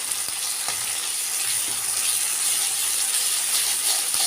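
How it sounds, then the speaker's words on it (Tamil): Garlic sautéing in hot oil in a pan for fried rice, a loud continuous hissing sizzle close up, with occasional faint stirring knocks and no speech. "பூண்டு விதை போட்டு இந்த எண்ணெயிலேயே நல்லா வதக்கணும்"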